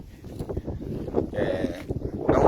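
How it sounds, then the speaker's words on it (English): Gusty wind buffets an outdoor microphone during a walking tour of a village, a fluctuating rumble that swells and rises toward the end. "Now we're against the wind, folks."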